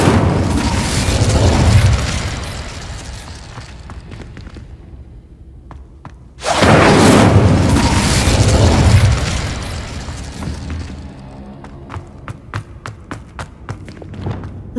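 A fire spell cast in the video game Hogwarts Legacy bursts in two loud, booming fiery explosions, each roaring and then slowly fading, followed by scattered small pops and crackles.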